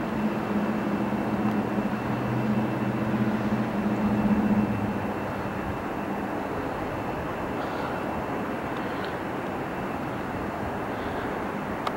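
A steady, broad engine roar of a military jet aircraft passing overhead at night over Fresno, loud and constant throughout, with a low droning hum fading slightly after the midpoint.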